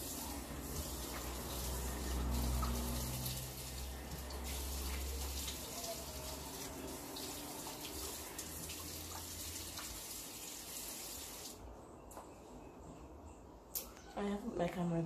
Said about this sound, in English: I'm going to wet my face and then apply it.